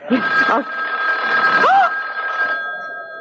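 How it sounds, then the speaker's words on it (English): A telephone bell rings loudly and close in a tense 1974 radio drama, one sustained ring alone with no talk over it. "It's the phone."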